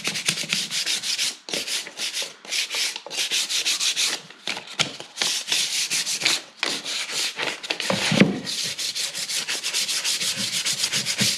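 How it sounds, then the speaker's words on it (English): Sandpaper rubs back and forth by hand along the grain of a wooden piece, loud and close, in rhythmic strokes with brief pauses between passes and no talking. "I'm sanding with the grain."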